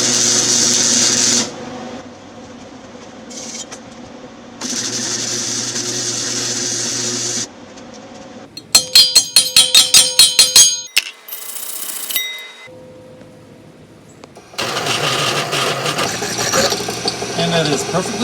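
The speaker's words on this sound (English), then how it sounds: "Let's weld it." Welding a pulley onto a 5/8 inch hub in a shop while building a racing lawn mower: long sizzling, crackling arc bursts separated by pauses, with a rapid run of sharp metallic clangs in the middle.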